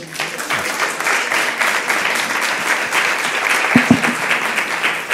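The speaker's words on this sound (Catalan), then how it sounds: "demanaria un aplaudiment ben fort" A lecture audience gives steady, full applause, with dense clapping continuing evenly throughout.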